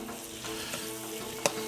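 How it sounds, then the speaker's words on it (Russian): Meat and onion fry in a pan with a steady, close sizzle, broken by a few faint stirring scrapes and one brief sharp clatter near the end, with no voices. "Пусть жарится, иногда помешиваем, иногда встряхиваем."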